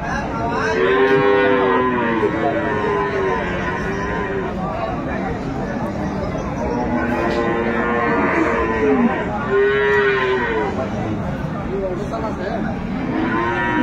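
Dairy cows, calves and Sahiwal crossbreds moo repeatedly at a cattle market in Aftabganj, Dinajpur, long drawn-out calls rising and falling over a constant murmur of people talking and livestock noise nearby.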